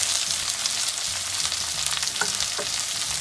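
Garlic fries in hot oil until brown as paprika is added, a loud continuous sizzle with a couple of light spoon scrapes, close and without talk.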